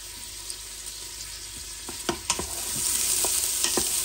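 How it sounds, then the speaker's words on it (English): Onions sauté in an Instant Pot with a steady low sizzle, as a wooden spoon knocks and scrapes against the pot in quick, irregular taps. "just give it a quick bash with your wooden spoon. And wait until it's softened a bit."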